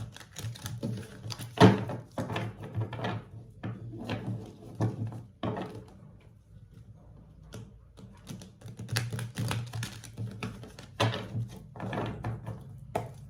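Tarot cards being shuffled by hand, a run of soft papery riffles and taps in irregular bursts with brief pauses, close and alone.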